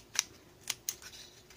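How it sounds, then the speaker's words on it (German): Scissors snip the folded corners off a paper cube star, three sharp quiet cuts close by, the second and third coming in quick succession, with no talking. "Jetzt kommen hier diese Ecken raus und die schneiden wir dann einfach ab."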